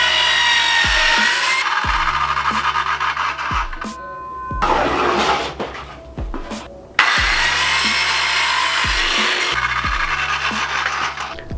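A circular skill saw rips through pallet wood boards in two long loud cutting passes with a harsh whining buzz, split by a short pause in the middle where the blade winds down and then spins back up.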